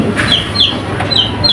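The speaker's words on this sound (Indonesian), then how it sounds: "ada anak ayam" Small high-pitched chirps from a young chick sound in short bursts over steady background hiss, with faint low rumbling underneath.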